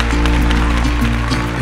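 Wedding guests clap together in a brief burst of dense, loud applause, with music playing underneath.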